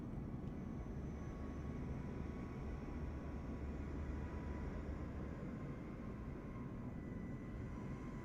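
A United-liveried airliner in Microsoft Flight Simulator 2024 passes overhead near LA, a steady broad engine roar with low rumble holding constant throughout, no voices.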